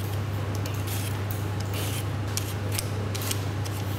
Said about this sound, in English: we start by peeling and slicing the potatoes